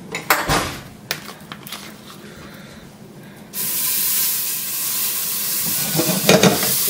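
Garlic dropped into heated oil in a pan bursts into a loud, steady sizzle and hiss partway through, following a few sharp knocks of utensils against the pan; no one speaks.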